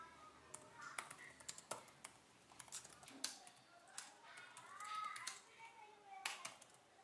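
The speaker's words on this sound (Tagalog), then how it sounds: "Tahimik din yung keyboard stroke kaya hindi istorbo kung nagtatrabaho ka sa cafe o kaya kahit ikaw ay nasa meeting" Soft, quiet keystrokes on an ASUS ExpertBook P1 laptop keyboard, a scattered run of light clicks and taps at close range, with no voices.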